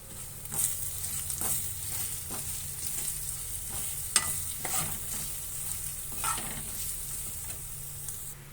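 Masala paste with chilli powder sizzles softly in a pan for egg curry while a spoon stirs it, making occasional scraping clicks over the steady frying hiss. No one speaks.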